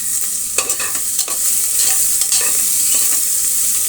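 Asafoetida and spices frying in oil in a pan, with a steady hiss and sizzle and irregular scraping and clinking as a spoon stirs them, close and fairly loud with no talking.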